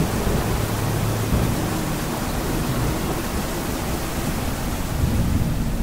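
A thunderstorm in the Tsugunohi horror game, with steady heavy rain-like rushing and a low rumbling roll of thunder throughout, loud and continuous with no clear sharp crack.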